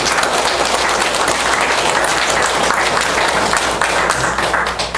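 A large church congregation clapping loudly and continuously during a sermon, a thick wash of applause that barely fades over a few seconds.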